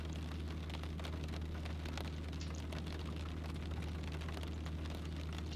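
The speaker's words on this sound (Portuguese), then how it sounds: "Um pouquinho de chuva, mas chuva não é problema" Light rain is simulated in a Cessna 208 flight simulator session on IVAO, a steady hiss over a low, constant engine drone, with no talking.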